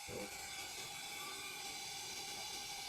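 A steady, airy hiss runs throughout as a vacuum fill tool pulls vacuum on a BMW N52/N54 engine cooling system through the open coolant cap, constant and fairly close with no pauses.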